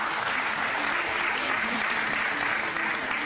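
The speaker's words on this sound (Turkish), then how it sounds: "Seyircilerimizden kabul etsin diyenler alkışlasın." A studio audience on the Turkish game show "Var mısın Yok musun" claps in a dense, even roar of applause that holds steady throughout, loud and close, with faint voices mixed in.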